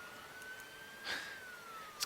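A faint, slowly wailing siren from an emergency vehicle in the game Emergency 4 rises and falls in the distance, with a soft click partway through and another at the end.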